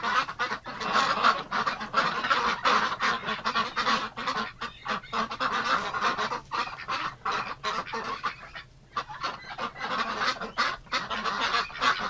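A noisy flock of ducks honking and quacking continuously in winter, close by and loud, with dense overlapping calls and no talking.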